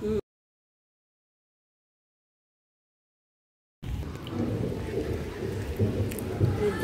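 Steady rain with low rumbling thunder outside a home, starting abruptly after several seconds of silence and holding a dense, continuous wash to the end.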